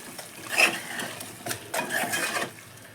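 A spoon stirring soaked rice into chicken pulao in a pot, with soft scraping and clinking strokes in an irregular rhythm, fairly quiet and close, no voices.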